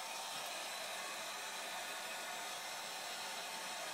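A heat gun warms the adhesive under a broken iPad 3 glass screen during a digitizer replacement, giving a steady, even blowing hiss that carries on alone without pause.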